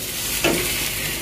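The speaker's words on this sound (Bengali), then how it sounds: "এটা আমাদের মাইসোনার ডিম ভাজা।" An egg fries in a pan with a steady close sizzle and a short stir or scrape partway through; no one speaks.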